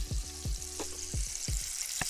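Pork katsu frying in hot oil, a soft continuous sizzle and crackle with a few low thumps as pieces are moved, faint and close, with no talk.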